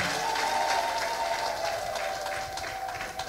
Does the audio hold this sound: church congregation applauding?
yes